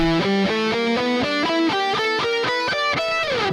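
Overdriven electric guitar runs a fast blues scale with a flat fifth in picked notes, ending in a sliding bend, loud and up front.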